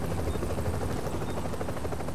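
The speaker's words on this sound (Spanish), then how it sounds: "El del helicóptero, sí." Helicopter in the game The Division: a steady, loud rotor drone with a faint rhythmic chop, continuous throughout with no speech.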